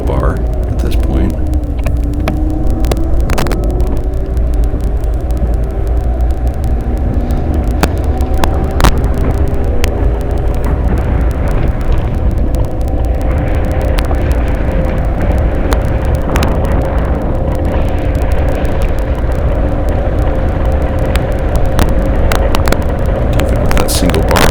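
A Boosted Rev electric scooter carrying a heavy rider runs at full throttle in max range mode 3, its motor whine rising and shifting in pitch under constant loud wind rumble and road noise for the whole stretch.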